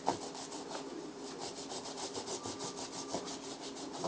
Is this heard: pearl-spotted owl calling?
no